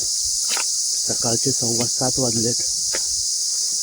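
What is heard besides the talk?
crickets chirping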